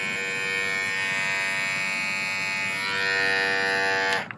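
A Philips Norelco Multigroom 5000 trimmer buzzes steadily as it shaves hair from the back of a hand, a close continuous electric whine that shifts slightly in pitch before cutting off abruptly at the end.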